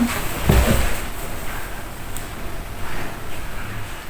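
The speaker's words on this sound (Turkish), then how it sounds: "Niye kapı açılmadı? Üstten de alttan da üç defa kilitlenmiş kapı." A locked door, bolted top and bottom, being tried: a couple of dull rattling knocks near the start, then faint handling noises in a quiet room.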